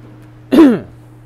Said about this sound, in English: Sorry for the cough, but that's what you get for watching live.